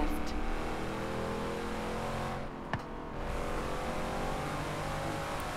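A Lamborghini engine revs and accelerates in the racing game Forza Horizon 3, a steady loud drone that briefly dips before surging again.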